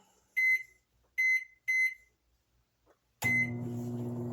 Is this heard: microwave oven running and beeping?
yes